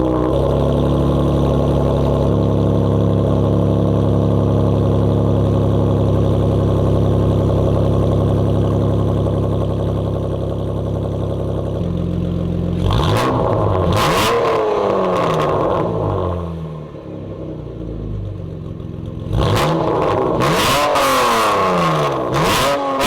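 Modified exhaust on a Pentastar V6 Dodge Challenger or Charger SXT idles with a loud steady drone for about twelve seconds, then bursts into sharp repeated revs that rise and fall, close and alone.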